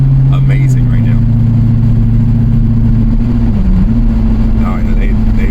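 A Lexus SC400 fitted with eBay coilovers drives along, its engine humming at a steady, loud, close cabin level with a brief dip in pitch, while someone talks over it.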